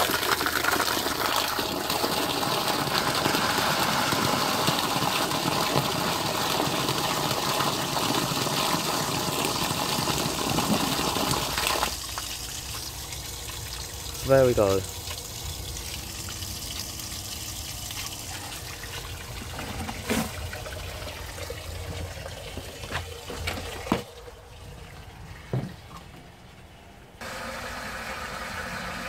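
A vintage Burlington bell syphon cistern with no flush pipe fills and flushes: a loud steady rush of water for about twelve seconds, then quieter trickling, dribbling and a few clunks as it settles, with a brief spoken remark.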